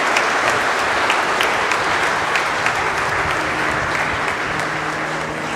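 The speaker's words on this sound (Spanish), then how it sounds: "De nuevo le damos otro fuerte aplauso a Fabiola" Loud, sustained applause from a church congregation at a Saturday evening Mass, a dense continuous wash of many hands filling the space throughout.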